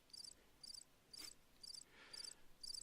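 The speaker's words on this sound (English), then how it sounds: "Crickets." Crickets chirp in short, regular pulses, about one every half second, faint and steady against a quiet night background.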